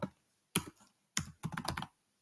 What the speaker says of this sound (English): if you type in the word just Obama